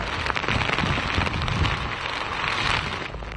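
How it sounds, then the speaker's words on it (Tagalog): Heavy rain with strong wind pours down in a steady, dense hiss in Surigao City, drumming on surfaces close by with a constant roar and no pauses. "biglang lumakas ang pagbuhos ng ulan"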